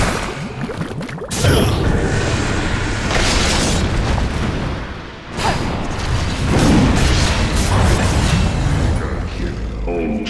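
Destruction of a tower in Dota 2, heavy booming crashes and rumbling collapse layered with whooshes and mechanical clatter, loud and sustained with a couple of big surges, and an announcer voice speaking over the battle.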